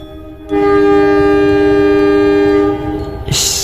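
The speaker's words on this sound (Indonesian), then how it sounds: "Ada suara kereta api" A loud, steady train horn blares for about two seconds, then fades into rumbling rail noise.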